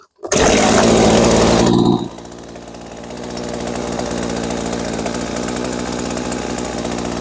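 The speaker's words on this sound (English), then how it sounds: "The chain's running all the time." A Husqvarna 40 chainsaw roars loudly at first, then drops to a steady, buzzing idle with the chain still turning. The idle runs close and constant, with no talking.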